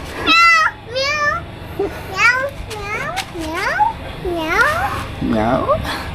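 A cat meows repeatedly, close and loud, with about eight rising and falling calls in quick succession and short gaps between them.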